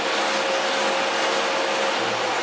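A workshop dust collector runs as a steady, loud broadband whoosh with a faint constant tone and a low hum entering near the end as the sander shuts off.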